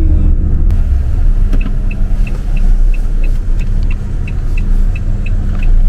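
A car on a road in Rabat, Morocco, in winter, its engine rumble steady and loud throughout, with a faint repeated high tick over the continuous traffic noise.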